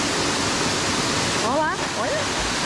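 Steady broadband rush of the waterfall at Cachoeira dos Cristais in Chapada dos Veadeiros, continuous and close, with brief voices and a short vocal cry rising over the roar partway through.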